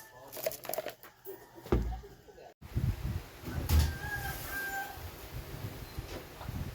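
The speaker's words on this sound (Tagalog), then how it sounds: "Tingnan nyo yung mga manok. Nagtitilaok pa." A rooster crows a few times at a moderate distance, with other birds and outdoor background noise around it.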